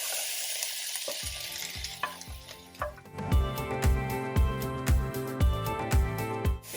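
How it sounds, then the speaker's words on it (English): Onion and garlic drop into a hot pan and sizzle loudly, followed by a steady rhythm of spoon stirs and scrapes against the pan, close up. "I'm just going to add this onion and garlic and everything in there"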